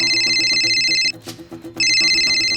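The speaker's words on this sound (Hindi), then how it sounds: "फोन उठा उसका" An electronic phone ringtone trills loudly in a repeating pattern, stops for a moment, then starts ringing again.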